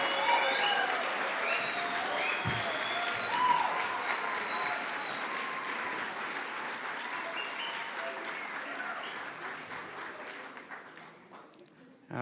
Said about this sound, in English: let's have another big round of applause for our 2025 graduating Master of Science in Accounting